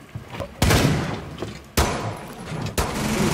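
Gunshots in the tactical shooter game Rainbow Six Siege: three sharp, loud reports spaced about a second apart, each with a brief echoing tail, over a low background of faint game noise.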